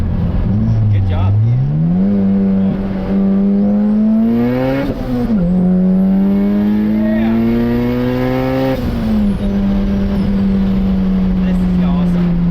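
A turbocharged Honda B16-powered EK hatchback revs hard on a dyno, the engine note sweeping up and holding high with a rising turbo whistle, loud and continuous from close range.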